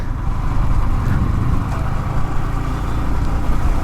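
Yamaha FZS V1 motorcycle engine running steadily after a service, a continuous mid-pitched engine drone that stays loud and close throughout without any speech.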